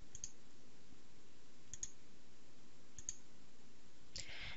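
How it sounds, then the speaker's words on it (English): A few sharp mouse clicks land in STAAD.Pro while setting steel optimization parameters, three spaced single clicks and a closing pair near the end, each crisp and close over a faint hum with no talking. "we'll click the Assign button"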